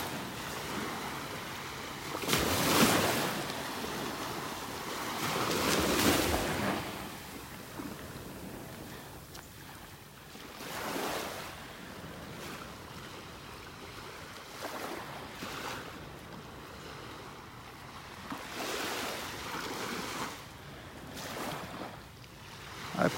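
Ocean waves break on a beach at Delnor-Wiggins in North Naples, Florida, with several surges of surf washing in over a steady wash of wind, moderately close and without talk.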